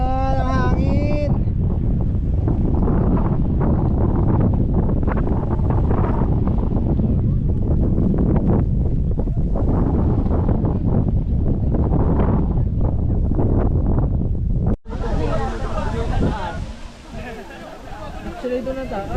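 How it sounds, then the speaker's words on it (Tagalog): Wind on the Mt. Batulao hiking trail roars steadily across the microphone as a loud, continuous buffeting, with people talking over it and a sudden shift to brighter, hissing gusts near the end. "Sarap naman ang hangin."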